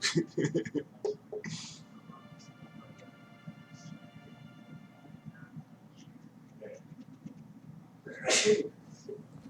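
A single sharp, loud sneeze bursts out near the end, following stretches of quiet low background hum and a few faint breaths or murmurs, close to the microphone.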